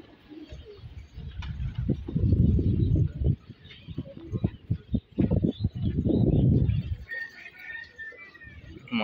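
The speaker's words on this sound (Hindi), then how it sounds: "ये देखें मुर्तजा भाई ने कबूतर खोले" Pigeons let out of a loft coo steadily in low, throaty bursts, with several birds overlapping close by and a brief flutter of wings near the end.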